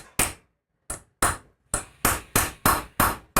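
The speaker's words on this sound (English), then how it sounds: "we're going to tap that sight in, just see how hard it is to go in there" A Dawson fixed rear sight for a Glock is tapped into its dovetail, about nine sharp metallic knocks, slow and spaced at first, then quickening into a steady rhythm, each with a short ringing tail.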